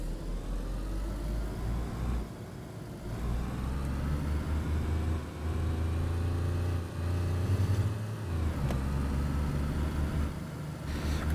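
A car engine in the video game DayZ on the Livonia map drones steadily while driving, with small shifts in revs and gear, constant and fairly close with no talk.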